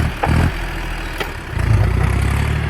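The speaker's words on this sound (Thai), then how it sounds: "จอนเดีย ห้าสามหนึ่งศูนย์เคครับห้าสิบห้าแรงม้าครับ" A John Deere 5310K tractor with a three-cylinder 2,930 cc direct-injection diesel engine runs nearby, a steady low mechanical rumble that swells slightly louder toward the end.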